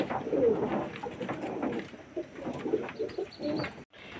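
Pigeons coo softly and repeatedly while bathing outdoors, a low murmuring chorus close by with some faint chirps mixed in and steady background noise.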